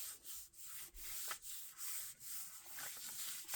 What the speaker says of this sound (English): Now I'm going to give it a nice rub.